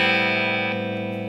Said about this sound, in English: It's a nice reverb pedal.